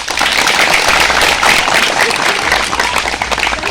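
A crowd claps steadily at an outdoor Congress party election rally for a by-election, a dense, close burst of applause that continues without a break.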